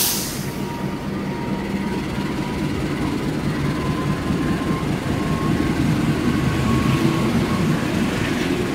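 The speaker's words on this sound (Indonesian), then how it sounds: "KLB. Argo Dwi Pangga berangkat bersamaan dengan melintas langsungnya kereta api Menoreh" The Menoreh train runs straight through an Indonesian station as the Argo Dwi Pangga special departs alongside: a steady, loud rolling rumble with faint rail clatter and a thin whine that builds slightly throughout, with no talk.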